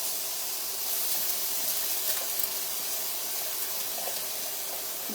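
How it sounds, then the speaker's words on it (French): Chopped onion sautéing in olive oil in a pan for a butternut tartiflette, a steady close hiss holding evenly at low volume with no talking. "et là on fait revenir l'oignon"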